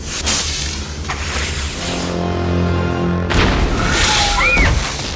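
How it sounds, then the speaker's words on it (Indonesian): A heavy missile-strike boom rumbles and rolls low, followed by another impact burst with gunfire and whooshing debris, loud and close. "Serangan rudal dan tembakan peluru pun menghantam ke tempat tinggalnya"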